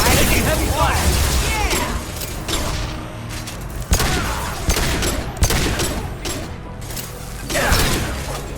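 Heavy gunfire during a firefight in Mass Effect 2, with dense bursts of shots, metallic clatter and impacts overlapping continuously at close range, loud throughout with brief swells of louder volleys.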